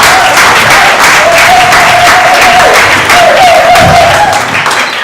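Audience at a graduation ceremony breaks into loud, sustained applause, dense clapping that fills the room and holds steady, with a faint tone and murmur running beneath.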